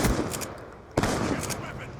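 Shotgun blasts in a first-person shooter video game, two sharp, loud reports about a second apart over steady game noise.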